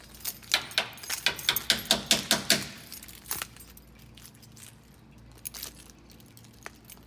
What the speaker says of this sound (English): Here, I got a set of keys.